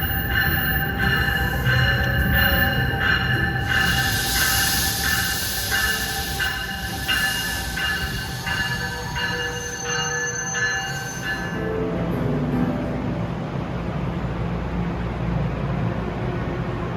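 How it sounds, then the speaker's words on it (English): Train 3861, a local to Trenton, rolling through Newark Penn Station, with a steady heavy rumble of wheels and loud high metallic squealing that fades out partway through, leaving lower rolling noise and hiss. "here comes train 3861, a local for Trenton"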